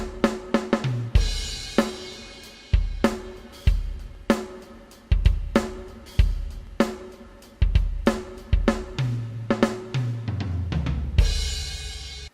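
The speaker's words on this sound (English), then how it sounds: "This is the DW Kit Andres" A sampled DW drum kit on a Nord Stage 4 playing a steady groove, punchy kicks and snare hits with cymbals, loud and close, no voices.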